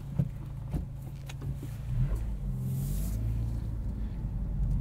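A 2022 Honda Civic Si pulls away and starts driving on the road, its low engine and road rumble building steadily and staying fairly loud inside the cabin, with a few faint clicks early on.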